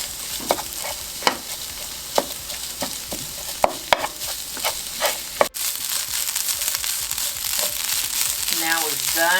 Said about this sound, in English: Our ground Impossible Burger is almost done.